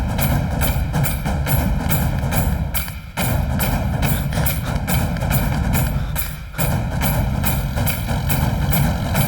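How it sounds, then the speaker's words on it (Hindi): A tractor engine running loud and close, a steady throbbing idle with rapid chugging pulses that dips briefly twice. "ट्रैक्टर रोक। क्यों?"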